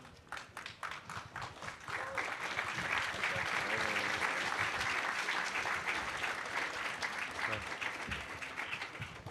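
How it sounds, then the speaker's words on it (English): Sustained applause from an audience at a hacker conference closing ceremony, starting with scattered claps that swell into steady, dense clapping from a large crowd for several seconds. "polite applause would be appropriate"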